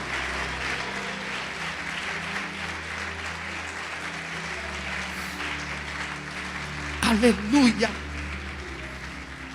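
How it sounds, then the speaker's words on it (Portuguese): A church congregation applauds during a sermon, a steady patter of clapping under a preacher's amplified voice, rising briefly near the end as he calls out. "Pode aplaudir o Senhor e glorificar."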